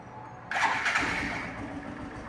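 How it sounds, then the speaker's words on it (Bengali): A motorcycle engine starts after a moment of quiet, catching with a sudden burst, then settling into a steady, close-up idle rumble. "বাইকের ইঞ্জিনটা স্টার্ট করে সাউন্ডটা দেখাবো"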